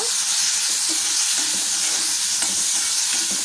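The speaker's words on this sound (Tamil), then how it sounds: "இதோட கூடவே ஒரே ஒரு பச்சை மிளகாயும் ஆட் பண்ணிக்கலாம் வதக்கிக்கோங்க" Tomatoes and a green chili sautéing in a pan, a loud steady sizzle throughout with occasional stirring scrapes, close and alone with no talk.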